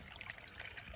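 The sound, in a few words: spring water running off the pool edge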